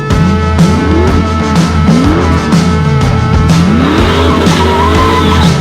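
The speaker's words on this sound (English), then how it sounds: "it's a C4 Corvette with a crate engine with 630 horsepower" A C4 Corvette with a 630-horsepower crate engine roars loud and close, its engine note rising and falling in repeated revving sweeps, with tire squeal layered over the steady engine drone.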